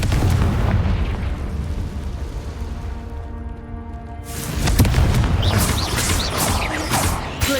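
A Confringo fire spell explodes in the Hogwarts Legacy video game, with loud, dense booming blasts. They ease into a quieter rumbling lull, then another powerful burst erupts and roars on.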